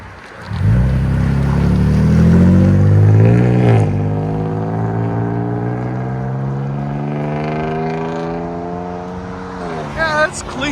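A 2023 Toyota Tacoma TRD with a 3.5L V6 and a Carven TR-Series exhaust, heard from inside the cab: a loud, steady drone that rises under acceleration, then settles into a smooth, even cruise with no rasp.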